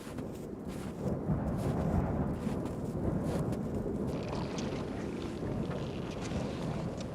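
Strong wind buffets across an open glacier on Mont Blanc, giving a continuous low rumbling roar with gusty swells and no voices.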